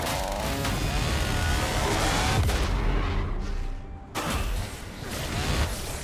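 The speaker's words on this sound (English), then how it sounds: "Blue team's turret has been destroyed." A turret being destroyed in League of Legends, heard as a loud, sustained crumbling blast with roaring debris, a short dip in the rumble, then more rubble noise.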